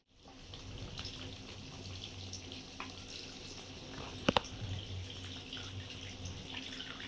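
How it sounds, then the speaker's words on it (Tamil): Steady rush of tamarind water pouring into a pan for eggplant curry, running continuously for several seconds, with a couple of brief sharp clinks partway through. "இப்போ நான் புளியை கரைச்சிட்டு இப்போ ஊற்ற போகிறேன்"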